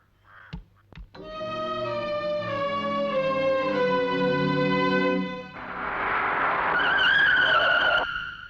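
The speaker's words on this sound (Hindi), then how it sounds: "अरे भाई, गाड़ी बीच सड़क में क्यों रोक दी?" Car tires squealing in a long, loud skid as the vehicle brakes to a halt in the middle of a road, preceded by a couple of sharp knocks, the screech rising and shifting pitch before cutting off.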